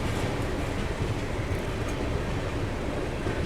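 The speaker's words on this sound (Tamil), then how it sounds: "கொல்லம் ஜங்ஷன் தான் உள்ளே என்ட்ரி ஆகிட்டு இருக்கு" The Garib Rath Express, an AC train, rolls into Kollam Junction with a continuous low rumble and rattle of wheels and carriages, steady and moderately loud from inside the train.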